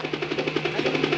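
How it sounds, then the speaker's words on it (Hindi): Helicopter rotor chopping heard as a steady, rhythmic pulsing drone with a low hum underneath, moderately loud and continuous with no talk. "हेलीकॉप्टर की आवाज।"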